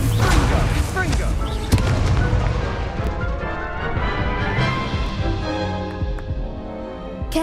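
Confringo blasting spells exploding in the Hogwarts Legacy video game: a dense, continuous barrage of loud booms and crashes, with voices calling out amid the blasts.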